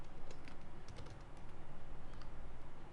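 Quiet, close keystrokes on a computer keyboard in a short burst of typing, soft clicks over a faint room hiss with no speech.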